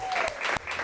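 A short burst of dense group applause for an audience gathering, steady and fairly close, with a faint whistle-like tone at the start.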